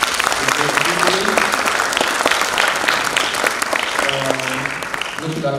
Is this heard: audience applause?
yes